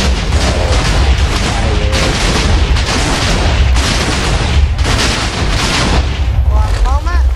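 TNT fireworks burst in a Minecraft TNT mod, producing loud, continuous booming explosions layered with crackle, with short whistling squeals near the end.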